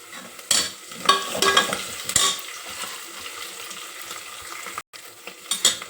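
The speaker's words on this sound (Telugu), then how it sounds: "మెంతి కూర, ఇది కూడా నూనెలో మంచిగా వేయాలి." Fenugreek leaves and curry leaves fry in hot oil for a mutton curry, giving a bright, crackling sizzle with stirring scrapes and a few louder bursts as the leaves hit the pan, close and steady.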